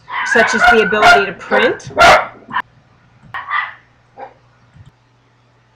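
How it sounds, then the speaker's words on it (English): A dog barks in a few short bursts behind a voice as he talks, then the barking goes on sporadically in a quiet room after he stops. "Sorry about that dog issue."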